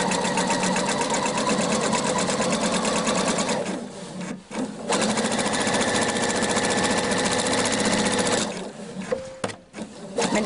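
A sewing machine runs a straight stitch at 2.5 mm length through thin fabric with a size 70 needle while sewing a dolman dress. The motor whirs loudly and steadily, pausing briefly twice before starting up again.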